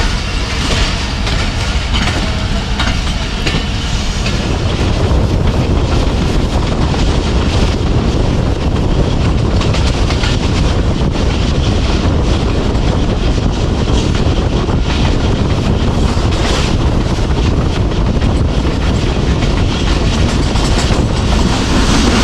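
Jaffar Express passenger train on a Lahore to Rawalpindi run through Punjab, rushing past a railway station with steady loud rumble and clickety-clack of wagons under wind buffeting, continuous for the whole stretch without talk.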